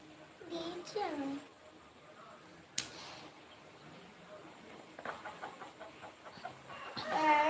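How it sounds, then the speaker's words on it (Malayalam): A hen clucks in short bursts close by, with people talking over a steady insect-like hiss in the background. "കോഴി ഇവിടെ കിടന്ന് കൊക്കുന്നു"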